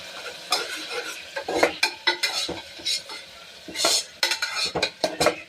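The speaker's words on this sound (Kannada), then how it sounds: "ಇದು ಸ್ವಲ್ಪ ಎಣ್ಣೆಯಲ್ಲಿ ಫ್ರೈ ಆಗಬೇಕು." Onion, ginger and garlic paste fries in oil, its soft sizzle mostly buried under repeated metal spoon scrapes and clinks against the pan as it is stirred.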